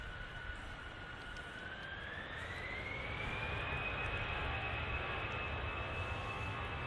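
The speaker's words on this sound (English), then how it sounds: "the next arrival will be the Majestic, oh, excuse me, King of the Skies, Emirates A380" An Emirates A380 airliner arrives at Manchester Airport, its distant engines producing a steady broadband roar with a rising whine that slowly climbs and then holds, fairly faint and alone.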